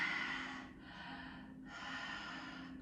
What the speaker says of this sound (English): you're breathing with this large exposed tongue to bring in a lot more